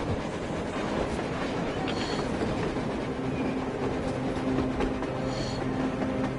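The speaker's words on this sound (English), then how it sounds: "A train! A damn train on the surface!" A train on the surface in the game Metro Exodus rolls past steadily with rumbling wheels and faint clickety-clack, plus a few brief squeals, continuous and fairly close.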